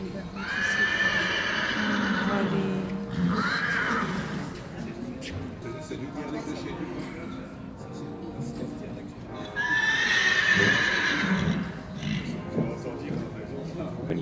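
A horse neighs loudly several times in an indoor arena, calling out to another horse, with shrill whinnies repeating over hoof clip-clop and a voice talking throughout.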